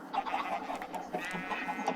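Minecraft chickens cluck and chatter in short, busy bursts, a small flock heard fairly close at moderate volume.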